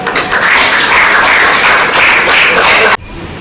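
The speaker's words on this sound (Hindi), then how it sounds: "धन्यवाद के साथ ताली के साथ स्वागत" Audience applause and tapping welcome a speaker at a community event in Chhattisgarh, a dense, steady wash of claps for about three seconds that cuts off abruptly, leaving quieter room noise.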